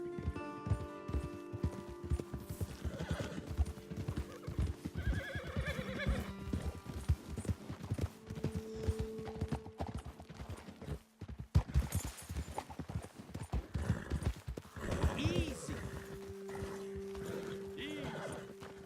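Horses in Red Dead Redemption 2 clip-clop along at a steady trot with repeated whinnies and neighs, fairly close, while a brief spoken word cuts in once.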